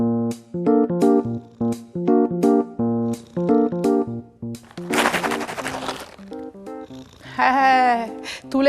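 Cat meowing while waiting for food, a few drawn-out cries rising over a bouncy children's music backing, close and fairly loud.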